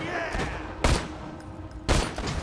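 Gunfire in the Borderlands 2 shooter game as a Commando: two loud, sharp broadband bursts about a second apart, ringing over a steady background of game ambience.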